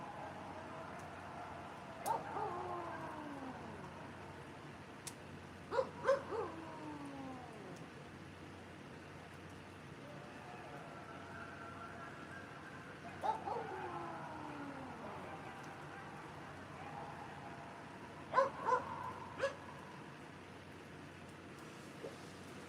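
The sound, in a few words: coyotes yipping and howling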